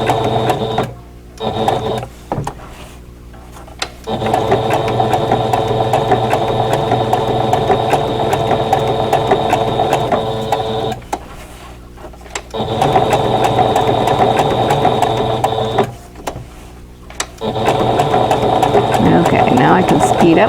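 A sewing machine stitches embroidered Christmas cottage quilt blocks in long continuous mechanical runs broken by brief pauses, loud and close, with rhythmic ratcheting clatter throughout.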